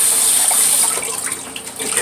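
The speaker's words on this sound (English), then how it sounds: "use as hot a water as you can get" Hot water runs steadily from a tap for rinsing off shaving soap, a continuous close hiss and splash with no talk.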